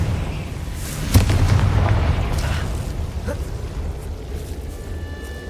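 Confringo blasting spell going off in Hogwarts Legacy: a sharp burst at about one second followed by a rumbling, crackling tail and a faint second pop, set against a steady low game-music and ambience bed.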